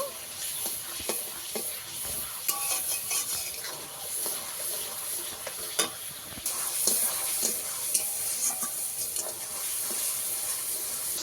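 Spice masala being stirred and sautéed in a pan with a splash of bowl-rinsing water while cooking hilsa fish pulao; steady close sizzling with scraping stir strokes throughout, no talk.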